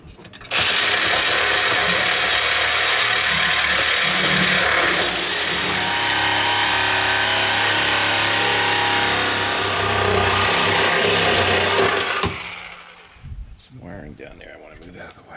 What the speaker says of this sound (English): I'm going to try the Sawzall.